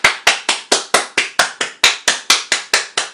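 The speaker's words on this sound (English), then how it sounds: "And then clapping." Close, sharp hand clapping during a bodywork exercise, about fourteen firm claps in a steady, slightly uneven rhythm, each ringing briefly in a quiet room, with no talking.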